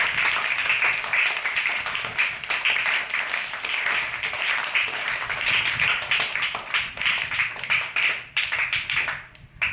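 An audience applauds for Dr. Shravan Kumar at an event, a steady wash of clapping from many hands that holds for several seconds before tapering off near the end.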